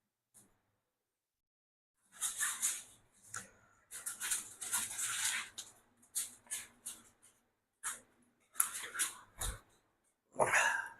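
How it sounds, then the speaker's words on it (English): A dog rips and chews apart a stuffed unicorn toy indoors, with bursts of tearing fabric and gnawing coming in close, uneven spurts after a short quiet start. "Got my dog in here with me, so everyone say hi to Arrow. There he is, tearing apart my daughter's stuffed unicorn"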